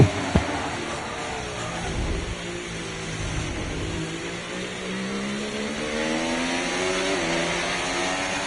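A Formula 1 car in the F1 24 game on a lap of the Jeddah circuit, its engine whining steadily as it climbs through the gears, with a short knock near the start.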